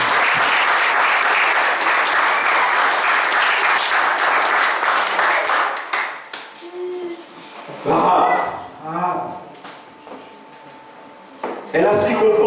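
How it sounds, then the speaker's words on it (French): An evangelical church congregation breaks into loud, sustained applause that dominates the first half, then fades into scattered claps and indoor shuffling with voices speaking. "Acclame pour le Seigneur."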